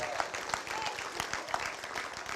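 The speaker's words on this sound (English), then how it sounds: "let's a round of applause for our candidates before we leave" Audience applause for candidates at a political town hall meeting, a continuous crackle of many hands clapping with a few sharper individual claps standing out, moderately quiet and distant.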